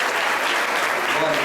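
A congregation claps loudly and continuously for the Lord during a spiritual warfare seminar, a dense, steady roar of hands with no pauses.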